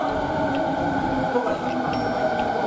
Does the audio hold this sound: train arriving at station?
yes